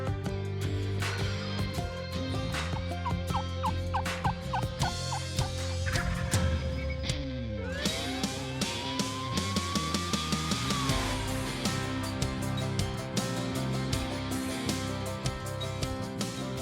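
Wild turkey gobbler on a Mississippi turkey hunt, gobbling several times in a row amid other outdoor sounds, fairly clear at moderate distance.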